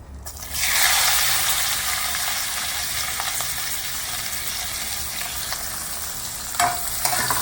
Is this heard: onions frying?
yes